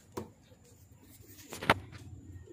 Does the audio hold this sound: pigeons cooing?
yes